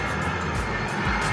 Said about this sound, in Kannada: ಇದು ಏರೋಪ್ಲೇನು